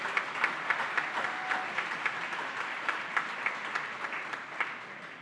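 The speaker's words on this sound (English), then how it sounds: "Please give them a round of applause as well." Dinner audience applauds steadily for several seconds, a dense wash of clapping with individual claps popping out, fading slightly at the end.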